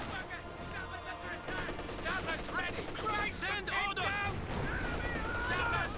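Rapid bursts of MG34 machine gun fire in a Company of Heroes 2 battle, rattling amid other combat noise under continuous commentary.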